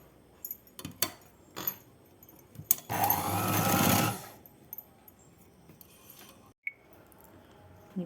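A sewing machine stitches a folded hem on a night dress in a quiet room: one close, steady run of stitching lasting about a second, with scattered clicks and fabric handling before and after.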